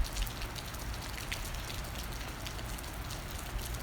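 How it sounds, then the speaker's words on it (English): Rain falls outdoors as a steady, dense hiss of drops on surfaces, close and even throughout with scattered louder patters. "I'm standing in the rain over there."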